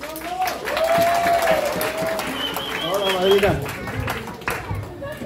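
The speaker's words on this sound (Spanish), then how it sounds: "¡Un aplauso!" Party guests at an eighteenth birthday celebration clap together in a brief burst of applause, close and lively, with people talking over it.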